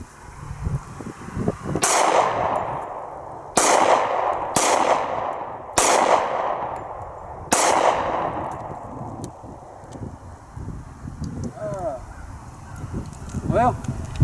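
A Para Ordnance P10 .45 pistol with a short barrel and sport grip, fired five times at uneven intervals outdoors, each a sharp crack with a long fading echo, with geese honking faintly in the distance.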